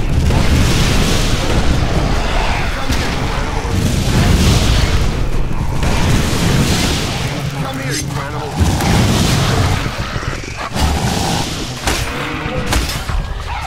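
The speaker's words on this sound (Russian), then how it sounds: "Кидаешь гранату, и она взрывается сразу же." Grenades and other blasts go off in the video game Elex as a run of loud, repeated booms and rumbling bursts, with a voice talking over the action.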